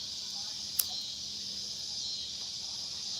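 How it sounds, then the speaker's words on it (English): Cicadas at evening give a steady, continuous high-pitched drone, loud and unbroken throughout, with a brief click near the start and no talking. "let's play the sound of the cicadas."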